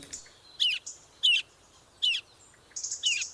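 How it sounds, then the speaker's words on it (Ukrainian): Tits sing in repeated short bright chirping phrases, four clear bursts spaced roughly evenly, moderately close and alone, with a quiet background between calls. "За спостереженнями синички починають співати всередині лютого."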